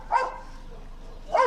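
A dog gives two short barks about a second apart, close and fairly loud, over a low background hum.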